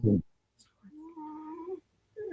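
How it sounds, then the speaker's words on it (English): A cat makes a thin, drawn-out wheezy cry, close and quiet, bracketed by brief bursts of other sound. "The cat is wheezing."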